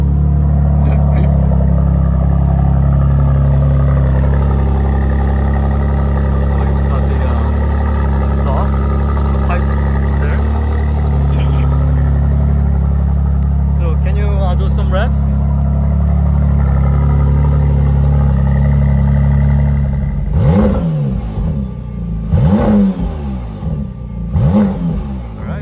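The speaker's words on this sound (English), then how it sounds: "you click it over to another driving mode, and then the car will fire up" A McLaren Artura engine fires up and revs in a few rising bursts near the end, after a long stretch of people talking over a steady low hum.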